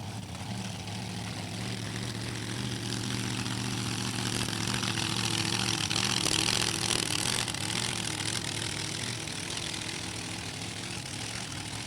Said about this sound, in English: here comes Dan Norris to make some noise